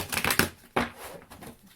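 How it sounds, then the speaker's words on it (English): Oracle cards being shuffled, a quick run of close, crisp riffling clicks, then a sharp slap and softer intermittent flicks as the deck is shuffled by hand, no talk. "casino shuffle and then hand shuffle till a few fall out"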